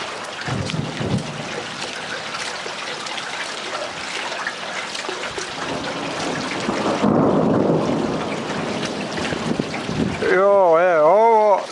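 Thunder rumbles loud and broad through a thunderstorm over a mountain at Krasno, Croatia, a long rolling roar with wind and rain noise, swelling stronger toward the end as a warbling tone cuts in.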